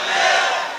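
A large crowd roars a takbir slogan in unison, a single sustained loud shout that swells and then fades slightly, with no other voice over it.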